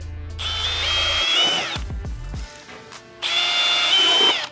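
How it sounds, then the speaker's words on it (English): A power drill with a 3/16 bit bores holes into a 2019-2025 Silverado or Sierra for reverse light pods, two loud sustained whining bursts separated by a short pause with faint clunks. "you're gonna need to drill a hole where your other hole is"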